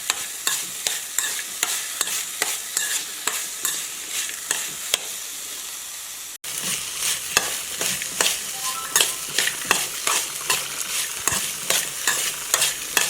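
Green chicken gravy fries in a pan over a medium flame, with a steady sizzle broken by regular scraping strokes of a spoon stirring the mix, close and clear, with no talking.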